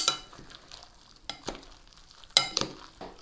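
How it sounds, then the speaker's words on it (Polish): Apples, sour cream and pepper are mixed together for a herring dish, producing soft, intermittent spoon scrapes and clicks, quiet and close, with brief sharper knocks. "Mieszamy jabłka, śmietanę i pieprz, aż się wszystko dobrze połączy."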